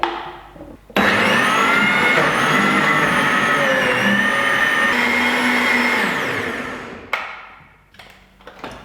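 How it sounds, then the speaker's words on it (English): A kitchen blender whirs loudly and steadily for about six seconds while blending cut-up pieces of half a small watermelon into juice. The pitch shifts slightly as the fruit breaks down, then the motor winds down, with a few brief clunks after it stops. "I just cut it up and I'm gonna blend it and make some juice or smoothie"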